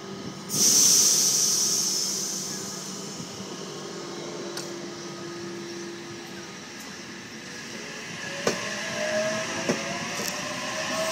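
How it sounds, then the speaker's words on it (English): A Port Kembla passenger train hisses loudly as it starts off from Oatley station platform 2, followed by a steady low rumble and whine of carriages pulling away, with occasional clanks. "H7 is now departing platform number 2,"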